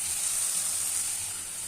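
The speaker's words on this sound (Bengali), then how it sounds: "মশলাটাকে ভালো করে ভেজে নিচ্ছি" A spice paste of chilli, garlic and tomato fries in a pan for a fish curry, giving a steady, soft hissing sizzle with no break.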